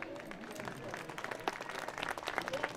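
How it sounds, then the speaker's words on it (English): Crowd applause at a high school track and field senior night for a senior athlete, scattered clapping that grows denser toward the end, with voices talking underneath. "Please give a round of applause for Cooper."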